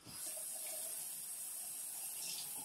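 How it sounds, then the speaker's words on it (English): Water pours steadily into a pot of meatball soup with noodles, a continuous close hissing splash with no talking over it. "add about 1/4 cup more water and fill up to the rim so all the noodles cook evenly"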